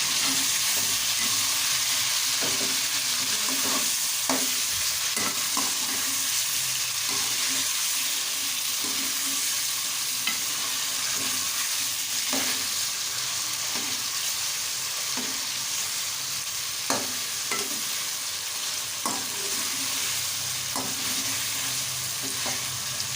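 Chicken frying in a pan with a tablespoon of garlic and ginger paste, a continuous close sizzle broken by frequent stirring clicks and scrapes of the spoon, with no talking.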